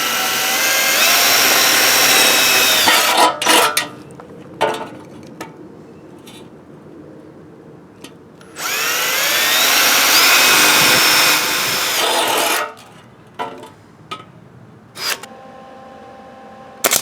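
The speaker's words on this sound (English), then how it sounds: "I'm going to drill some 1/4-inch holes so I can plug weld the panel in." Power drill boring 1/4-inch holes through the sheet-metal rocker panel of a 2001 Chevy Tahoe for plug welding, two loud sustained whining bursts separated by a pause filled with clicks and handling clatter, no voices.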